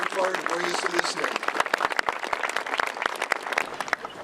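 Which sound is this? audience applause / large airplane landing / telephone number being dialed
audience applause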